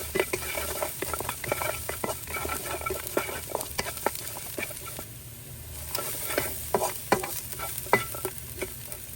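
Crispy pork being stir-fried with chili and garlic in a hot pan: a constant sizzle under repeated sharp clacks and scrapes of a spatula tossing the ingredients, close and busy, with no talk.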